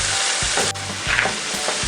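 Ginger sautéing in hot oil for papaitan, a steady close sizzle and frying hiss with a few stirring knocks from a utensil in the pan, no talking.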